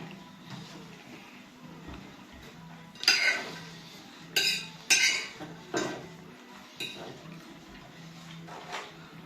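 Dishes and cutlery clinking and clattering as a dishwasher is loaded in a home kitchen, a series of sharp nearby clinks in bursts over low background noise.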